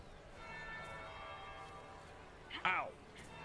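A single bell tolls in Dragon Age: Inquisition, struck once near the end as a bright, ringing clang over a quiet ambient hum and faint background tones.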